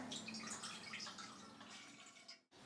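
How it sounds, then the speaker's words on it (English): Water splashes steadily into a saucepan as one cup is poured for masala bajra roti, a close, continuous bright stream that tapers off and stops abruptly near the end. "into a saucepan I'm adding in 1 cup of water"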